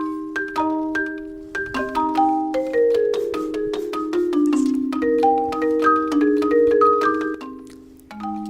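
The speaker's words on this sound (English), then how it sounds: "That is the sound of a robot called Shimon." Shimon, a four-armed AI musical robot, plays a xylophone: a clear, close run of ringing mallet notes forming a melodic line that grows denser toward the end, with no voices.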